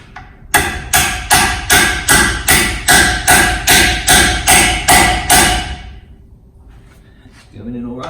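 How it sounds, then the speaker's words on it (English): About a dozen sharp metallic hammer taps on a wheel stud of a 4x4, in a steady rhythm, close and loud, then a pause and a brief voice at the end. "You get the hammer."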